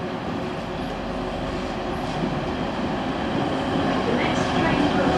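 A two-coach train runs at a Doncaster station platform, producing a steady, loud, low rumble with faint wheel noise that swells slightly toward the end.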